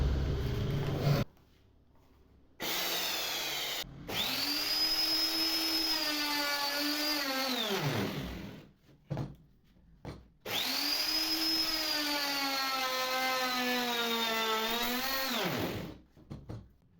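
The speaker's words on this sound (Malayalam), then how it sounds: "ഞാനിപ്പോൾ ഇത് റൂട്ടർ ചെയ്യാനായിട്ട് ഈ 2 കഷ്ണങ്ങൾ ടേബിളിൽ സി ക്ലാമ്പ് വെച്ചിട്ട് ടൈറ്റ് ചെയ്തിട്ടാണ് ഞാനിത് ചെയ്യുന്നത്" A wood router cuts two wooden pieces clamped to a table with C-clamps for a wooden easy chair: two long, loud, steady whining runs, each starting and winding down, separated by short pauses.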